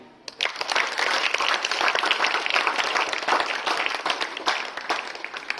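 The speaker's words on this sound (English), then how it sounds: "She also deserves clapping." Students at a school gathering break into a dense, sustained round of applause that starts abruptly and holds steady and loud for several seconds, with no speech over it.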